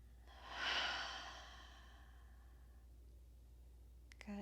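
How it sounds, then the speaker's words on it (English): A single deep breath drawn in and then released in a long, soft exhale, close and quiet, during a calm yoga session for the legs, followed by a brief faint click. "Deep breath in. And a long exhale."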